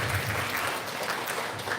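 A short burst of dense audience clapping fills a Palmer Elementary student recognition ceremony after an award is announced. The applause is steady and fairly close, with no talking over it.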